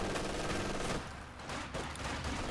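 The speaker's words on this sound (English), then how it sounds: "MG42 already set up to attack them." MG42 machine gun fire in Company of Heroes 2, a dense rattling fusillade of rapid shots that is loud for a second, briefly drops back, then surges again. No voices.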